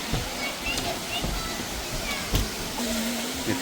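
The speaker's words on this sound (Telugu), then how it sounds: "వాటర్ వారుతున్నాయి" Water flowing and rushing beside the main temple at Ahobilam in the Nallamala forest, a steady continuous broadband wash with a few brief splashes, heard close and alone throughout.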